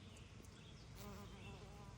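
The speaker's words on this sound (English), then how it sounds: "show you the bees at work" Honey bees buzzing as they gather pollen outdoors, a faint continuous insect drone with shifting pitch as individual bees move near and away.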